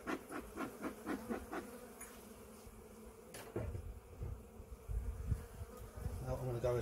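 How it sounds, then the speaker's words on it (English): A cluster of honey bees in an opened hive buzzes as the super and crown board are lifted, a continuous hum with knocks and handling clatter over it, fairly close and moderately quiet. "Lovely cluster of bees."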